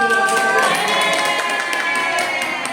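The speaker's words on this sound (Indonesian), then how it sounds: "Tepuk tangan untuk Pak Winoto" An audience at a school teachers' gathering claps and cheers for a senior teacher, lively overlapping clapping mixed with excited shouting and voices, loud and close.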